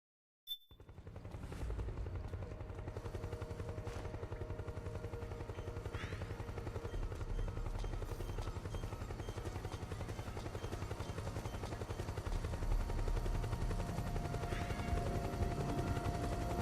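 Helicopter in the video game Metal Gear Solid 4, a steady low rotor drone that holds throughout after an abrupt start, with faint scattered impacts and bursts in the background and no talk.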